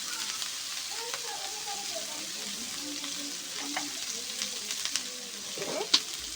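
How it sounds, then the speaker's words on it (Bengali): Malabar spinach being stir-fried with spices in a pan for a fish-fat curry, a soft continuous sizzle with stirring scrapes and a brief utensil knock near the end, close but quiet. "যে পুঁই শাকটা মশলার সাথে ভালো করে একটু নেড়ে ছেড়ে নেব।"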